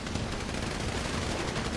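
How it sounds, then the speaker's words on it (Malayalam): Dense, rapid gunfire from a multiplayer video game crackles in a continuous, unbroken burst, loud and close, with no talk. "മഴ പെയ്യുന്ന കണക്ക് വെടി വരുന്നത് കേട്ടാ"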